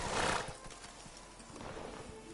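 A horse's hooves clip-clop at a walk in the video game Witcher 3, a soft rhythmic series of hoofbeats under a loud burst of ambient noise at the start, with no talking.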